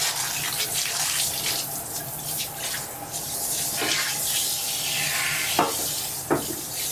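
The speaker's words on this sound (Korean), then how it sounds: "자, 샤워기로 쭉 이렇게 헹궈줄 거예요" A handheld shower head sprays water steadily into a toilet bowl during bidet-seat cleaning, giving a continuous close hiss of running water with a couple of brief splashing bumps near the end.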